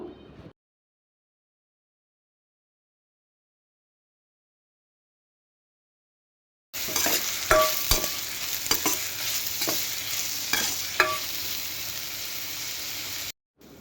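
Green chillies, curry leaves and chopped onion fry in hot oil for a curd-rice tempering, a steady close sizzle with repeated stirring scrapes. It starts after a long silence and runs to the end without talking.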